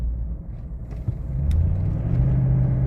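Toyota Tundra exhaust with cutouts closed, a low, muffled engine rumble from inside the moving truck that swells slightly as it rounds a corner, steady and subdued with no talking.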